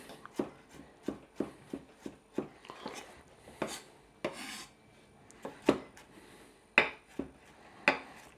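A knife chopping garlic taps rhythmically on a cutting board, steady close chops about one per second, with slight scraping between strokes and no voices.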